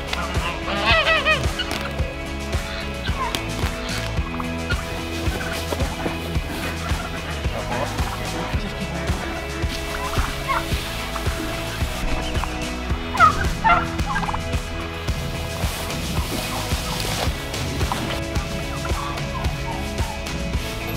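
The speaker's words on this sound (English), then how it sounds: "then came time to bring the turkeys, the geese, and the ducks back into the pen." Turkeys and geese on a farm being herded back into their pen, with gobbling and honking going on throughout, dense and close, layered over steady farmyard background noise.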